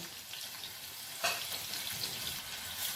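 Crushed garlic dropped into about two spoonfuls of hot oil with a pinch of asafoetida, a sharp burst of sizzling that then settles into steady frying crackle.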